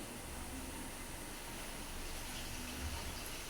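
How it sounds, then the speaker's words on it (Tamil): Water is poured from a tap into a cooking pot of vegetables, a steady faint gushing that runs for a few seconds without talk. "கொஞ்சமாக அந்த காய் மூடுற வரைக்கும் தண்ணி ஊற்றினா போதும்."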